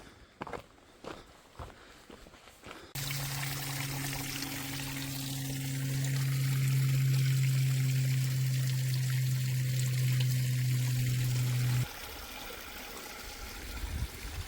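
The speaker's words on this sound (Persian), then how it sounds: "این صدای جوی آب که از این ارتفاعات لابلای درختان میاد پایین" Mountain stream flowing down between the trees on a hike in British Columbia, a steady close rushing of water, preceded by footsteps and ending with a low drone under it.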